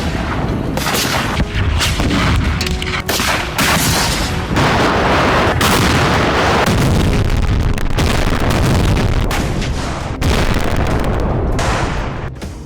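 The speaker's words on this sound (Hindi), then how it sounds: "दोनों ओर से जबरदस्त बमबारी हो रही है।" Heavy artillery bombardment in the Russia-Ukraine war, a loud, dense barrage of booming blasts and crackling fire rolling continuously with short breaks between volleys, no talk.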